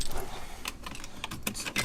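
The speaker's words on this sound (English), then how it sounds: "let me find my keys" Car keys for a 1997–2001 Honda CR-V jangle and clink in several bright bursts across a short stretch, close and fairly loud, with no talking.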